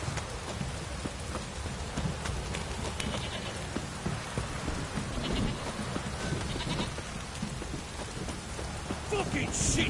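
Steady rain falls in a PS4 video game, a dense, continuous patter at moderate volume with faint bleat-like animal calls scattered through it.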